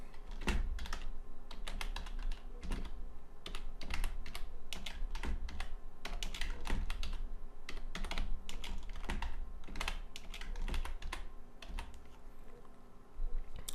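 Fingers type on a computer keyboard in quick, uneven bursts of close, crisp key clicks that continue almost without pause, with no voice over them.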